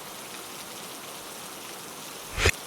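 Steady rain falls in an even, hissing wash with fine patter, close and moderately soft, ending in a short louder knock.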